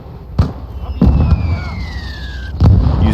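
Artillery shells exploding on the Farmland map of the Gates of Hell Ostfront war game: several sharp, heavy bursts, loud and close, in an uneven rhythm, with a thin descending whistle of an incoming round between them.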